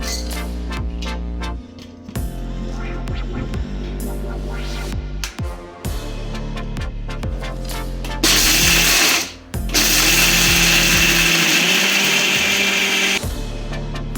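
A mixer grinder runs loudly in bursts, grinding peanuts, its motor whirring and rattling with a grinding clatter, stopping and restarting several times.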